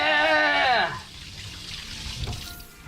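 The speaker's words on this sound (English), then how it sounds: "Water inside the box, yeah!" Water running through newly installed RV plumbing, flowing steadily close by, with a voice at the start that drops away as the water continues alone.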